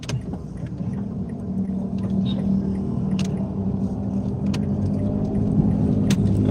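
Mini trucks and multi-cab vehicles pass nearby, a steady low engine rumble with occasional light rattles and clicks building slightly louder toward the end.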